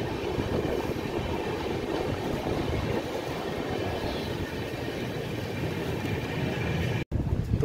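The Vikramshila Express, train 12368, running late, rumbles along the rails in a steady, dense clatter heard from on board, continuous and fairly loud with a brief dropout near the end.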